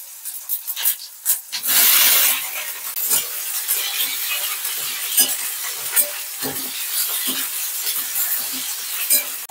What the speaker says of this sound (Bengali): তেজপাতা, পাঁচফোড়ন, কুচনো টমেটো, ভেজে রাখা আলু আর কচু দিয়ে দিচ্ছি।